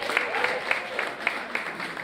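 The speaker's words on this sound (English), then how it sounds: "Give a round of applause for the Creative DNA for doing this." Light applause from a small audience at a live Creative Economy Week fashion discussion in Zimbabwe, with individual claps popping out in a loose rhythm over a soft, distant clatter of hands and a faint voice.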